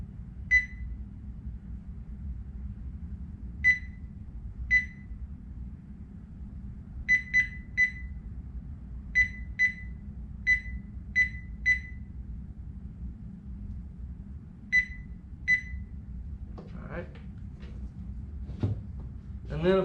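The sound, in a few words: Thermoworks Signals meat probe thermometer alarm going off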